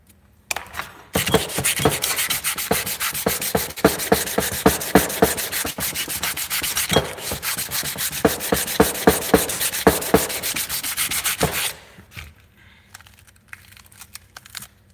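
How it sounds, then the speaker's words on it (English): Close, continuous scraping of metal on a Predator 212 engine cylinder head, a dense rasping rhythm of rapid strokes that runs steadily for several seconds before cutting off near the end. "Make sure I'm not just scratching it with its own metal flakes."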